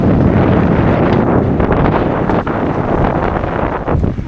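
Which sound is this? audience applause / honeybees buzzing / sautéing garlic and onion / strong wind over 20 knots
strong wind over 20 knots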